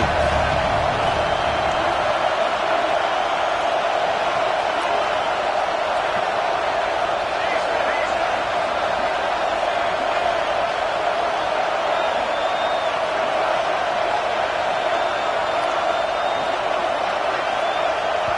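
Steady stadium crowd noise from a college football video game against Alabama, a constant loud roar that holds without breaks throughout.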